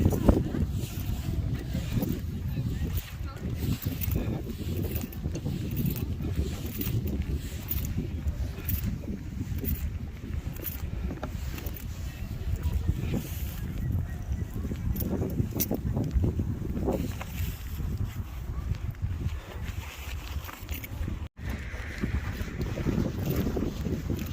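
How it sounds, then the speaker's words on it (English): Steady gusty wind buffets the microphone with a low rumbling roar throughout, constant and close, with faint voices now and then. "Windy."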